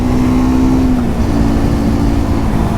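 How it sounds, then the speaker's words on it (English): A Triumph Speed 400 motorcycle engine revs steadily and strongly while accelerating onto a road, a constant loud drone with a pitch that dips once and settles. "Plenty enough poke to get the bike up to speed really quickly"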